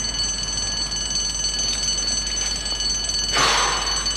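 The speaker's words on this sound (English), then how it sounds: "If it's all the same to you, Sarah, if we could switch the alarm off first, please." An alarm rings steadily with a bright, bell-like tone at close range, holding constant before a brief burst of noise near the end.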